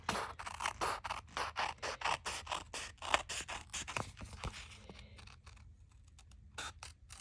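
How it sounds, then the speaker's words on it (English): Scissors trim a folded paper card: quiet, rapid, rhythmic snipping, close up. The cuts run steadily, then thin out into a few final snips. "all we have to do is trim it"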